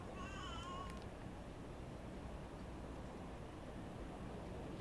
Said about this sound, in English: You can probably hear the cat in the background.